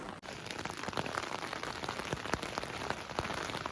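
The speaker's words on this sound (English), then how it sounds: "I had to get out of my tent in the rain" Rain patters densely on a tent during a rainy backpacking trip along the Red Deer and Clearwater rivers, a steady close wash of drops with sharper individual taps, no voices.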